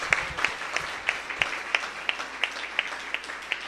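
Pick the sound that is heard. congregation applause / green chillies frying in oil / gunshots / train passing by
congregation applause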